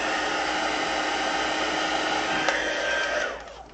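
A heat tool blows a steady, loud whoosh as it melts material in preparation for gilding flakes, holding constant before cutting off near the end.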